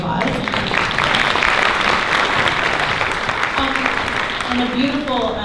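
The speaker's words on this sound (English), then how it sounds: "give him a round of applause" A crowd at a Japantown community fundraiser applauds Reverend Sakamoto with loud, steady clapping that fills the whole stretch. A voice carries faintly over the applause near the end.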